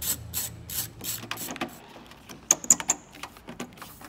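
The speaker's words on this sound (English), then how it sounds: "Remember to use a 7 millimeter socket." A socket wrench with a 7 mm socket ratchets while the speaker is removed from a Ford police vehicle door, giving quick clicking bursts followed by a few sharper, louder separate clicks close to the mic.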